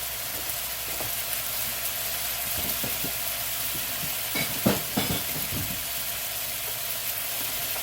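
Meat sizzles in butter in an extra large wok alongside pushed-aside vegetables for a beef, pasta and veggie stir-fry, a steady close frying hiss broken by a few louder scrapes and clanks of stirring.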